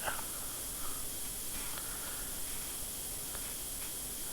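A steady, loud hiss of spray water blasting a tank to strip rust in Tank Mechanic Simulator, continuous and even with no talking.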